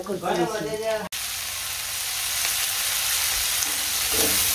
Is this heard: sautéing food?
yes